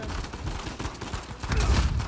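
Bursts of gunfire from a video game shooter, including an AUG rifle, crackle loudly through the clip and grow denser toward the end.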